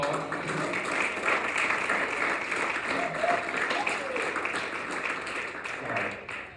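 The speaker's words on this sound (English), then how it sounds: "Give him a round of applause." A union gathering audience applauds an organizer who led a drive at a Home Depot in Philadelphia, with dense sustained clapping from a sizable crowd throughout, fading slightly at the end.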